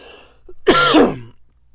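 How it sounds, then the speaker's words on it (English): A single short burst of coughing, close and fairly loud, in an otherwise quiet room. "like right there, I'll end up coughing a little bit"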